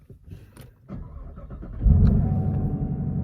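A 2020 black Chevrolet Camaro with the LT1 V8 cranks and fires up, settling into a loud, deep, steady idle after a few seconds of quieter shuffling.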